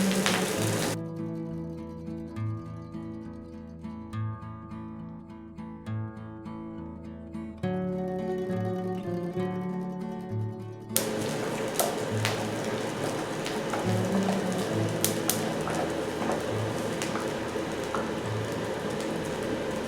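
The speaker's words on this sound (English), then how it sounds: "we're just trying to get a nice sear on those and bring them up to temperature" Food searing in a hot pan for a polenta dish, heard as a steady hiss and crackle like rain after a stretch of tonal background music, close and continuous with no talking.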